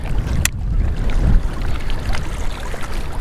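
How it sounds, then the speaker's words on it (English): Strong wind rushes over the microphone while fishing for bass from a boat, a loud, continuous low roar with buffeting gusts and no speech. "Sorry about this wind, it is just terrible"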